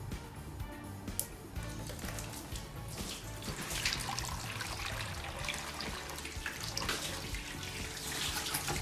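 Water from a burst water balloon splashes and pours steadily onto a surface, a continuous rushing spill with scattered drips, close and fairly loud for several seconds.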